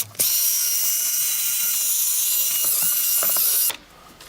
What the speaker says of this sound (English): So now we'll just drill brush away pretty thoroughly.